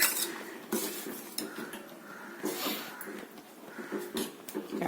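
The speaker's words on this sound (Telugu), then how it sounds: "ఇప్పుడు ఇందులో మనము ఇందాక కుక్కర్లో పెట్టుకొని తీసిన కందిపప్పు ముద్దని, కొత్త పప్పుని మనం దీనికి యాడ్ చేద్దాం" Mashed toor dal stirred into tamarind chutney in a metal pot, with close, repeated scraping and clinking of a spoon against the pot that comes in irregular bursts throughout.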